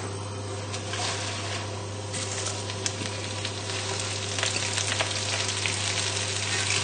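Spinach fries in about a teaspoon of oil in a pan, giving a steady close sizzle with soft crackles throughout and a constant low hum underneath, with no talk.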